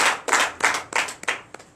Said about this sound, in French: Donnez encore l'acclamation à Jésus.